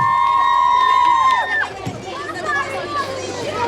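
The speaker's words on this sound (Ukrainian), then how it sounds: "Аплодисменты ваши!" An audience at a children's dance show cheers and shouts right after a dance-studio troupe is announced, lively voices and applause rising as the announcer's sustained call fades.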